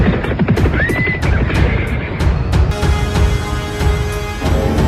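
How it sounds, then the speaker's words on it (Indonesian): Horses ridden by a band of about a thousand horsemen neigh loudly, one high whinny standing out over a dense jumble of hoofbeats and sharp clattering, with a sustained ringing tone joining near the end. "mendadak dari arah depan dan belakang bermunculan orang-orang berkuda"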